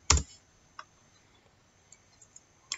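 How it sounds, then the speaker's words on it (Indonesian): Alt and Enter keys pressed on a computer keyboard, heard as a few sparse, sharp clicks: one loud tap at the start, a softer one shortly after, then a final click, with faint ticks in between in a quiet room. "tekan tombol Alt pada keyboard, kemudian tekan Enter"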